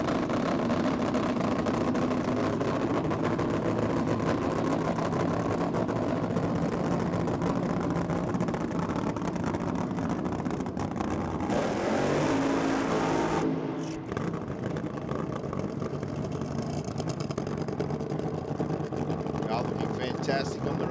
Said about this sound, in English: Tuning a nitro motor. Ah, the sound of nitro, I love it.